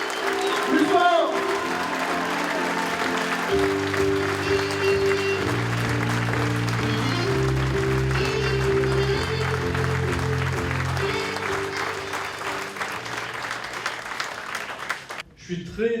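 A concert audience keeps up loud, sustained applause to welcome a performer on stage while steady music plays underneath, the clapping easing slightly before a brief dip near the end.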